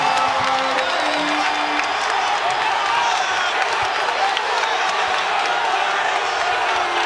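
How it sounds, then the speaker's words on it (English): Arena crowd at a Gonzaga vs BYU college basketball game cheering and shouting steadily throughout, a loud dense roar with whoops and some clapping and no break. "The crowd is trying to egg them on."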